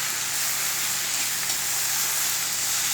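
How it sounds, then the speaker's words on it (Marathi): Asafoetida, cumin and garlic sizzle in hot oil with turmeric for a traditional safflower-leaf bhaji, giving a steady, close, even frying hiss that runs unbroken for the whole stretch with no voices. "हिंग, जिरे, लसणाची छान फोडणी घातली आहे, त्यात हळद टाकली आहे."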